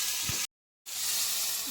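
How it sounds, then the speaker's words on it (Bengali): Mushrooms sauté with spices in hot oil, giving a steady close hiss and sizzle broken by a brief silent gap. "মাশরুম আর মশলা ভালো করে একটু কষিয়ে নেব"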